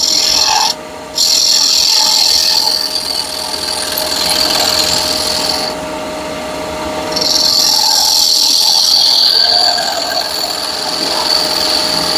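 A wood file rasps across a piece of wood to taper it, with long rhythmic strokes close by, loud and gritty, separated by brief pauses and heard alone without talk.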